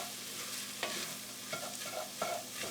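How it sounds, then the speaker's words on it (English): Hungarian paprika sizzles softly in a kidney bean soup pot while a spoon stirs it, with a faint steady frying hiss broken by several scraping stir strokes. "Just saute that a little bit."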